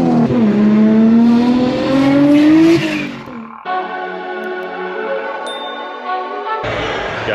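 A Nissan Skyline R34 GTR with an RB26 engine revs hard, its pitch climbing for about three seconds, then dropping to a steadier, harsher drone that shifts partway through. Loud and close, with no talking.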